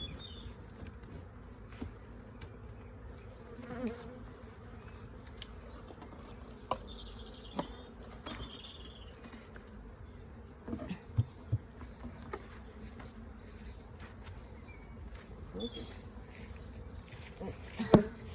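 Bees buzzing outdoors, a steady close hum that runs throughout with small rises and faint clicks, and no talk over it.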